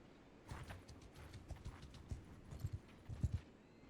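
A horse in Mount & Blade II: Bannerlord clip-clops in a steady, uneven patter of hoof thuds that grows a little louder toward the end, over a low game ambience.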